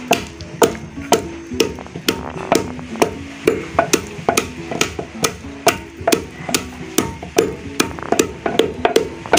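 Coffee beans pounded by hand in the traditional African way, a steady run of sharp wooden thuds about two to three per second, close and loud with no talking.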